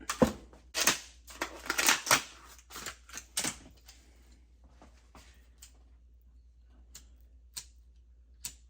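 Klein tool packaging is cut open by hand, with a burst of sharp crinkling snips and crunches up close, followed by sparser clicks and taps in a quiet room.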